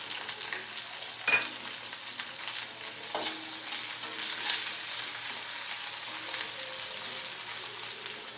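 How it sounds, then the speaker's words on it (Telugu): Garlic slivers, green chilies and onions fry in a pan for Andhra-style bitter gourd pulusu, giving a continuous close sizzle broken by a few scraping stirs of a spoon. "ఇప్పుడు వెల్లుల్లిపాయ రేఖలు వేస్తున్నాం. ఇవి కూడా బాగా కలపాలి. తర్వాత పచ్చిమిరపకాయలు, ఉల్లిపాయలు,"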